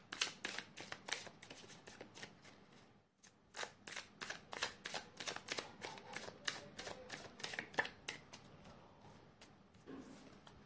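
Tarot cards being shuffled: a rapid run of crisp riffling flicks and snaps, close and fairly quiet, with one brief pause before the shuffling resumes.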